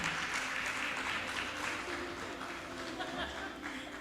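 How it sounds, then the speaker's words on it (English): An audience applauds at a local government executives' class opening ceremony in the Philippines, steady dense clapping from a crowd indoors that holds for the whole stretch, with speech faintly mixed in. "Once again, a round of applause to Mayor Coro."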